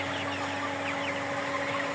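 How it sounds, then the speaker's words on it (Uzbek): A large flock of chicks and chickens raised for sale on a farm clucks and peeps continuously. The birds sound dense and close over a steady low mechanical hum, with no talking. "Jo'jalarimiz."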